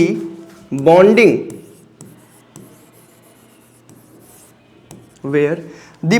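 Chalk or marker writing on a board during a chemistry lecture, with soft scratchy strokes between bursts of a man's speech.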